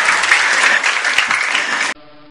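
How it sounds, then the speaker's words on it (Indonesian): An audience at a Maulid Nabi gathering claps loudly and densely for about two seconds before the applause stops sharply, leaving a faint hum. "Boleh tepuk tangan."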